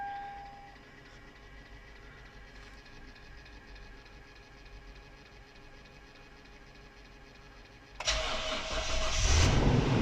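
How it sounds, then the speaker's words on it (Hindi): A Toyota Land Cruiser sits quiet with a faint hum and a steady ticking until its engine suddenly cranks and catches near the end, settling into a loud, rough idle close by. "आप देख सकते हैं गाड़ी हमारी स्टार्ट हो गई है।"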